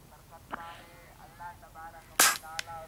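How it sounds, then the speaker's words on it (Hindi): A Diana 56 air rifle is fired while bird hunting outdoors: one sharp, loud crack rings out, then a fainter short snap follows, with voices talking quietly in the background. "ज़बरदस्त शॉट यार, दिल खुश हो गया अबू बकर भाई शॉट"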